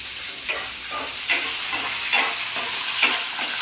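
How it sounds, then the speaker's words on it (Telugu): Onions and green chilies frying in a pan for a tomato and drumstick curry, a steady sizzle broken by regular swishing stirs about every second, close and fairly loud. "ఇలా ఉల్లిపాయలు, పచ్చిమిర్చి బాగా బ్రౌన్ కలర్లోకి వచ్చే వరకు వేయించాలి."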